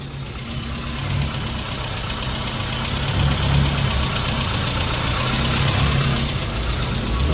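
A classic Mini car engine idles steadily, a continuous mid-pitched rumble with a faint knocking texture, close and constant throughout, with no talking.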